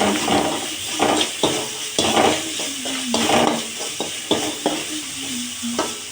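Okra fried with homemade masala is stirred in a pan, a spatula scraping and clinking against the metal in a steady run of strokes over a continuous close sizzle.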